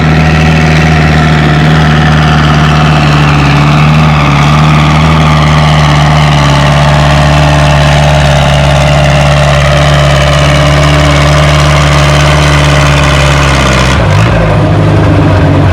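Steady, loud drone of a Ford 800 tractor engine straining under load while pulling a sled at a tractor pull, holding constant for most of the stretch before the engine cuts and drops off abruptly near the end.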